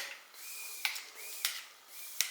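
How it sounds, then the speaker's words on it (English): Three short hissing spray bursts, evenly spaced, close and moderately loud, with a faint tonal hum between them. "I just spray it all over."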